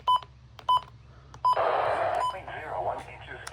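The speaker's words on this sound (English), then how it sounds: "There we go. Button beeps are on." Button beeps from a radio scanner: three short, clear electronic tones, evenly spaced, then a burst of radio noise and a voice.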